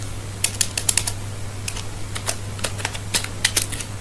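Text being typed on a keyboard gives scattered light clicks in short clusters over a steady low hum, fairly close, with no speech.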